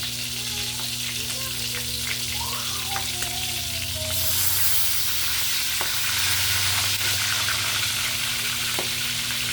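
Marinated pork sizzles steadily in a frying pan up close, a dense hiss dotted with sharp crackles and pops over a low steady hum, swelling a little louder about halfway through, with no talking.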